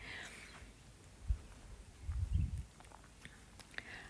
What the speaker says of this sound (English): He's doing some licking and chewing.